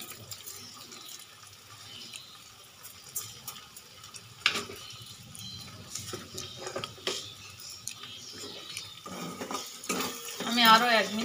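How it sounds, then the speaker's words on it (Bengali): Utensil scraping and clinking in a pan while egg kofta curry is stirred, a soft repeated scrape and tap at close range with no talk, sharper metallic clatter toward the end. "আমি আরও 1 মিনিট নেড়ে চেড়ে নিলাম।"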